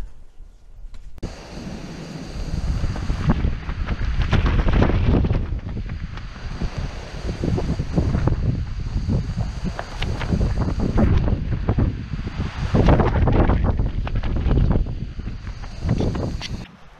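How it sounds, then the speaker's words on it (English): Strong wind gusts across an outdoor backcountry campsite in Kodachrome Basin, Utah, roaring in loud, buffeting surges that batter the microphone and rise and fall over several seconds, with no talk. "This wind is pretty bad."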